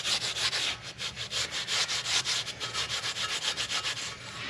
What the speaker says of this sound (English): take some Scotch-Brite pad. I'm gonna clean up this surface where the bolts meet up.